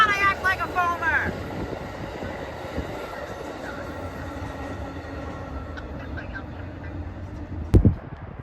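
Amtrak 108 rumbles past as a passenger train at Amsterdam, New York, with a loud, steady rolling roar and a horn-like whistle at the start. A brief thump comes near the end, with wind noise and voices.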